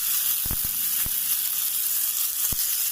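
Ghee sizzles steadily on a hot tawa, a constant close frying hiss broken by a few sharp taps of a utensil.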